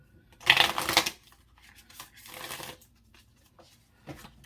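A deck of tarot cards is shuffled by hand up close, a loud riffling burst followed by softer, shorter shuffles and light card taps, with no talking.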